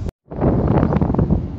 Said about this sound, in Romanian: zici că suflă vântul și suflă